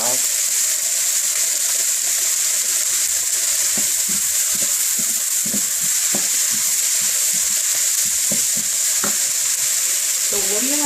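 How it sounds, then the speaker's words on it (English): Onions sizzle steadily in a hot pan for hibachi beef fried rice, with a constant loud frying hiss and intermittent scraping clicks of a utensil stirring them. "as the onions fry, we need to mix them so they don't burn"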